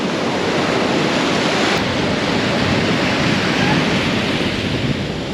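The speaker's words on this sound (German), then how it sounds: "Wow, die Brandung hat hier ganz schön übel. Also mit Kraft kommt die hier an." Strong surf breaking onto a beach in Mozambique, a loud, continuous roar of crashing waves mixed with wind buffeting the microphone, steady throughout with no break.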